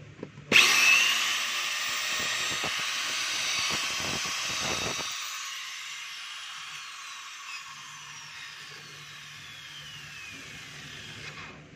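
A DeWalt DWE8200PL 4-inch angle grinder, wired directly past its switch because of a broken field coil lead, spins up with a sharp start and a steady high motor whine that runs on and slowly softens, with no talk.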